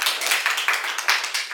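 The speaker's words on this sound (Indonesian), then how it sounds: "Silakan beri aplaus untuk Vanessa." Classroom applause for a student during a physics lesson on Hooke's law: a group claps in a steady patter of overlapping hand claps with a few louder swells, close and continuous throughout.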